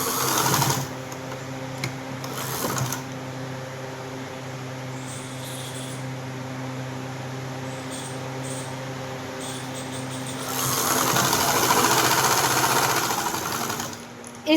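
Sewing machine stitching the hem of a kurti, a steady mechanical whir running almost continuously at close range, with brief pauses and a louder burst near the end.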